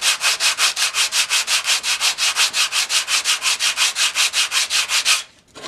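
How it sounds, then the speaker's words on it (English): Rough 60-grit sandpaper rubs back and forth over the lacquered wooden handle of a handsaw, about thirty quick, even, loud strokes in a steady rhythm, alone, then stopping abruptly. "you are going to be sanding through all the lacquer and everything"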